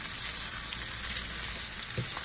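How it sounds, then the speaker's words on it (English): Onion frying in oil in a pan, a soft continuous sizzle close by with a small stir or shift near the end, no voices. "So a couple of minutes I'm going to fry the onion on top of oil."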